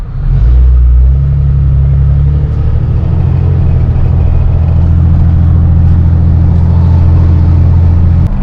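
A straight-piped 6.7 Cummins diesel pickup truck idles and runs with a loud, deep, throaty exhaust rumble, steady and close throughout with no talking.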